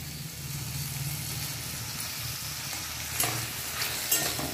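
Chopped onion and tomato frying in oil in a pan, a soft continuous sizzle with occasional scraping strokes of a spoon stirring, fairly quiet and close with no talk.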